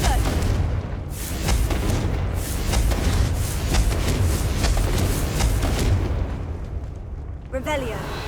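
The Confringo blast curse in the Hogwarts Legacy video game sets off booming, rumbling explosions that roll on for several seconds at close range and ends in a brief crackling burst.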